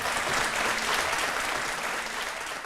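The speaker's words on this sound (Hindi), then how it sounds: "ताली बजा दो।" An audience at the Aap Ki Adalat TV show claps in a steady, dense burst of applause that fills the room and fades slightly toward the end.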